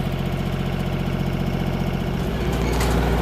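A tractor lawn mower engine runs loudly and close, a steady low rumbling drone with a faint rhythmic throb that roughens and surges near the end, heard alone without talking.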